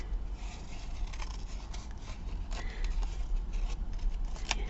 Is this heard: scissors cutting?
yes